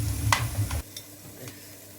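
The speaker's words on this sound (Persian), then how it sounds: "هم میزنیم. و دیگه آب جوش میریزیم تو داخلش." A spoon stirs food frying with turmeric, pepper and fried onion in a pot, scraping and sizzling loudly for under a second, then fainter sizzling with light clinks.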